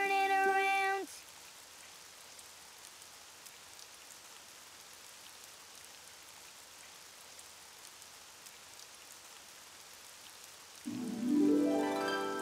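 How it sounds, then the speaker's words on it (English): Steady rain falls outside, a soft continuous hiss of drops on surfaces that runs quietly for most of the stretch, with brief louder music-like tones at the start and end. "Oh, it's raining outside."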